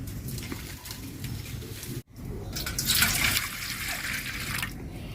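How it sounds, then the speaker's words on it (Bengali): Prawns being washed in water, running and splashing steadily with a brief break midway and a louder gush near the end, close by in an outdoor cooking setting beside a wood fire. "চিংড়ি মাছগুলো প্রথমে খুব ভালো করে ধুয়ে নেব।"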